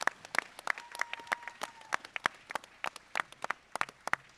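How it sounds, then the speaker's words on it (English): Audience applause fills a convention panel room at GunCon 2023, with sharp overlapping claps in a steady burst and a faint tone gliding underneath. "Give it a round of applause for Bowers Group."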